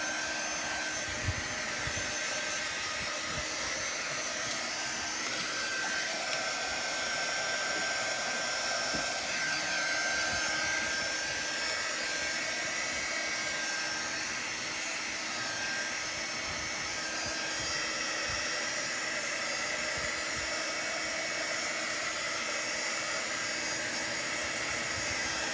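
A low-heat dryer blows steadily and loudly over paste laid on a pumpkin transfer, a constant whirring rush that runs unbroken for the whole stretch without pause.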